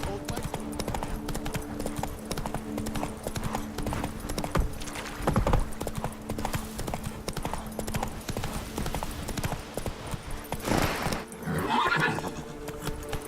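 Hooves of the horse Roach clip-clop rhythmically across ground in The Witcher 3, with a whinny near the end and a voice talking over parts of it.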